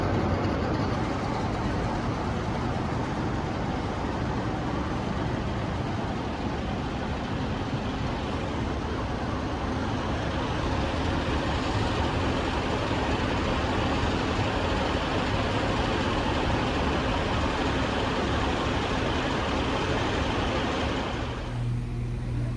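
Locomotive 47802 pulls through Chester station as a continuous loud rumble and roar that holds steady for over twenty seconds, then cuts off abruptly near the end.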